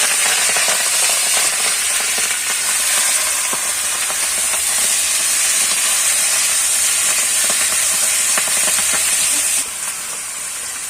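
Malabar spinach goes into hot oil tempered with five-spice seeds, giving a steady loud hiss and sizzle close by that eases slightly near the end, with no talk.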